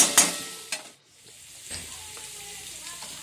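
Gola ruti flatbread batter cooks in a pan, giving a steady low sizzle with a few sharp scrapes and clinks near the start and no talking.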